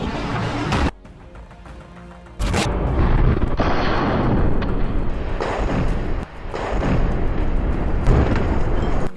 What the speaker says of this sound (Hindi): सामने खड़े एक टैंक पर भी अल कासिम के लड़ाके आरपीजी फायर कर देते हैं